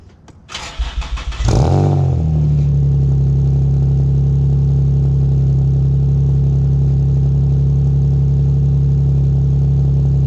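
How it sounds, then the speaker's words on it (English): A car engine cranks briefly from a cold start, catches with a loud roar, then settles into a steady, loud, even idle that continues to the end. "I'm gonna give you guys a little quick cold start so you guys can hear how the car sounds"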